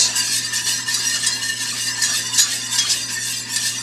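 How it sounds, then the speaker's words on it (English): A spoon works a gumbo roux of canola oil around a hot cast iron skillet, producing a continuous soft scraping and gentle sizzle that pulses with each stroke, close and steady, with no voices. "Now, you want to continue stirring because at no time do you want your roux to break apart."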